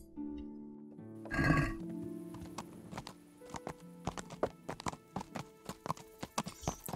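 Hooves of a horse clip-clop at a walking pace in the medieval video game Kingdom Come: Deliverance, a string of crisp, close knocks following a brief snort, with no talking.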